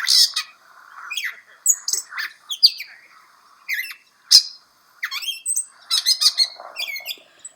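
A bird calls repeatedly with varied chirps, squawks and whistles, loud and close, in irregular bursts separated by short pauses.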